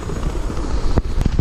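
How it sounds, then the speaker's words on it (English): A helicopter's rotor and engine drone steadily up close as it prepares for liftoff in Whistler, with a few sharp knocks and thumps near the end. "we've got a helicopter right now getting ready for liftoff."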